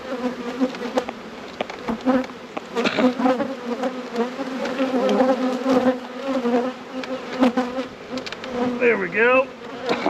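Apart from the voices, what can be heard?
honey bees buzzing during hive inspection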